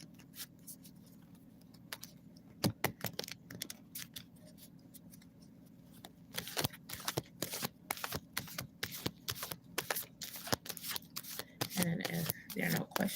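Playing cards riffled and shuffled over and over in a quiet room, crisp close clattering bursts that start sparse and grow busier and louder toward the end, with a faint steady hum underneath.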